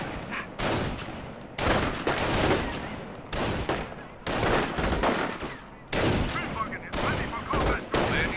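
Gunfire in a Valor tournament video game battle, with dense bursts of shooting and fusillades coming in repeated waves, loud and close, with brief gaps between volleys.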